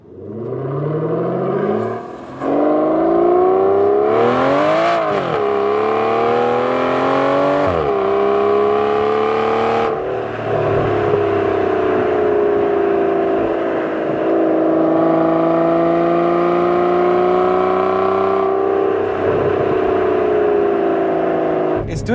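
Aston Martin Vanquish engine revving on the move, a loud, continuous mechanical drone whose pitch climbs and dips repeatedly as the car accelerates, with no talk over it.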